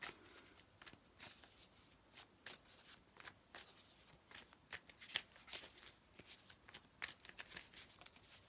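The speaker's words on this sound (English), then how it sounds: "I'm just going to shuffle the cards" A deck of tarot cards is shuffled up close, making quiet, rapid rhythmic riffling and flicking that continues steadily throughout without speech.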